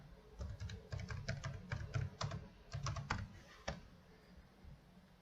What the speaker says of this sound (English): we will type it here